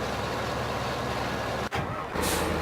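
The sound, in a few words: tractor engine straining, from video game Farming Simulator 2015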